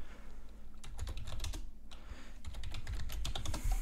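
Keys clatter on a computer keyboard as a Linux command is typed at a terminal on an embedded Linux board, a steady run of close, crisp keystrokes with no talking.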